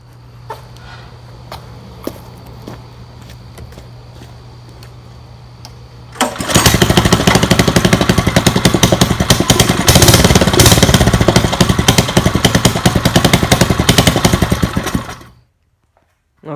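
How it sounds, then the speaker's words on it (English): Predator 212 small engine with a modified, louder exhaust is pulled to start after some quiet ticking and a low idle-like hum, then barks into a loud, steady, rough running roar for about nine seconds before cutting off abruptly. "it is definitely a lot more louder than the stock Predator 212 exhaust"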